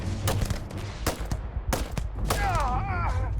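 Gunfire from a single-shot gun in the video game Starfield, several loud, sharp close shots spaced irregularly, followed by a warbling, whining tone near the end.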